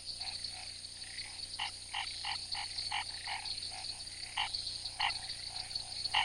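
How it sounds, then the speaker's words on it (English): Frogs croaking at night in the Pantanal wetland during the rainy breeding season, males calling in repeated short pulsed bursts over a steady high insect-like chorus, several callers close and clear with no voices. "The males call at night, staking out their territories and attracting females."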